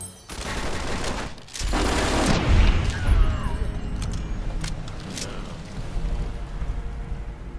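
Gunfire with armor-piercing rounds in Fallout New Vegas, a burst of loud booming shots followed by a rumbling, decaying tail and scattered smaller cracks, close and heavy.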